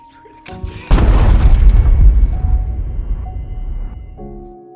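A gunshot in a thriller film lands as a loud, sudden boom that rolls and decays over a few seconds, with music tones before and after and no speech.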